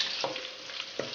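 Garlic frying in cooking oil in a pan, a soft continuous sizzle with two brief stirring clinks, fairly quiet and close.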